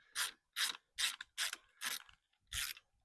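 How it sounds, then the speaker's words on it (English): A socket ratchet is flipped and spun by hand, giving six quick bursts of loud, close clicking, each a short burr of pawl ticks separated by brief silences. "Don't mind me just kick flipping my ratchet."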